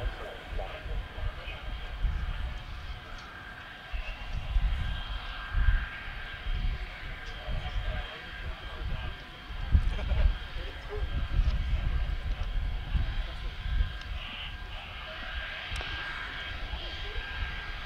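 Steady low roar of a SAAB AJ 37 Viggen jet engine running at the runway end, heard from a short distance, swelling and easing slightly over a long stretch.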